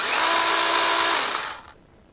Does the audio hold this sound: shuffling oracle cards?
no